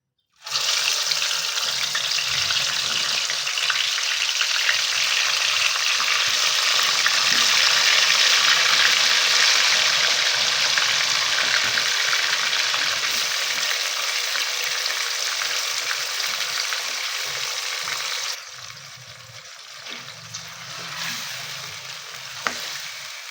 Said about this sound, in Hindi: मसाला लगा हुआ चिकन ऑयल में ऐड करेंगे।